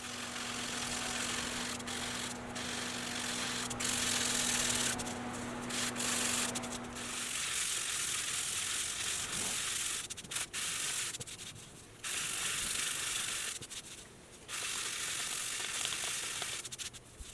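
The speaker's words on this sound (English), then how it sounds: "Now for one of my favorite parts of guitar building, sanding." Steady rasping friction of sanding a handmade guitar body runs close and continuous, at first over a low motor hum, then in stop-start strokes with short pauses.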